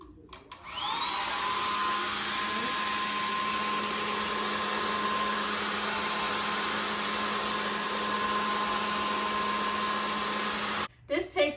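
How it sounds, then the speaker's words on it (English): A hair dryer blows on the back of a wall mirror to melt the glue holding it in its frame, a steady loud whooshing hum with a rising whine at start-up, running about ten seconds before shutting off. "blow dry the back of the mirror in order to melt the glue that's on the mirror"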